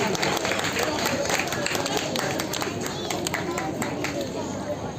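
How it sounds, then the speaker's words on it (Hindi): Applause at an award ceremony in a temple courtyard as a prize recipient comes forward, a dense sustained wash of clapping from a crowd, with voices and a public-address announcer over it. "एक जोरदार तालियां अदिति के लिए।"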